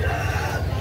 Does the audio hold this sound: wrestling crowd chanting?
no